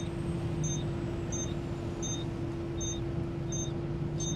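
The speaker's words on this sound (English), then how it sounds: "It's an engine warning alarm." A truck's engine warning alarm beeps in a steady series of short, evenly spaced electronic tones, six in all, over a constant loud cab drone and engine hum.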